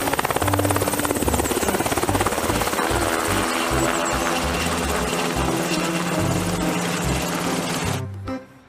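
Loud, continuous thump of an army helicopter's rotor blades with a steady engine whine, close by, cutting off abruptly at the end.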